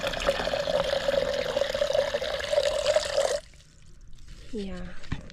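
Water runs steadily from a tap while lemongrass is washed, a continuous splashing that cuts off abruptly, followed by a person talking.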